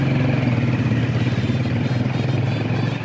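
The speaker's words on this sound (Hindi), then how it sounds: "लो जी गाइस मोटरसाइकिल अपने हवाई जहाज तैयार" A motorcycle engine runs close and loud with a steady throbbing rumble and rattly clatter, holding an even tone throughout without speech.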